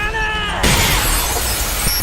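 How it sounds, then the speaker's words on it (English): Chains shattering in an anime, a sudden loud burst of crashing, breaking noise after a tense hum, ringing out in a dense wash that lingers to the end. "His glove erupted with a red energy aura, shattering the chains."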